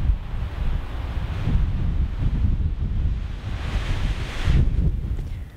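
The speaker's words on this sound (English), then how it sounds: "It's so windy up here." Steady blustery wind on a rooftop in Bishop, California buffets the microphone with a continuous rushing roar that swells and eases in gusts, loud and close.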